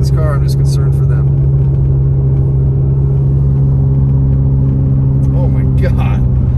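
A car engine runs badly while driving, a loud and steady low drone and rumble heard from inside the car, with people talking over it.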